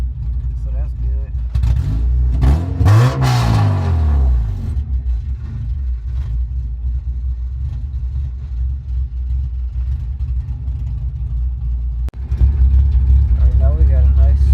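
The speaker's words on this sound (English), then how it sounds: "now we got a nice smooth idle" An H2B-swapped Honda EK coupe that needs a tune and is leaking oil revs up in one rising and falling sweep, then settles into a steady, low, rumbling idle, with people talking over the engine.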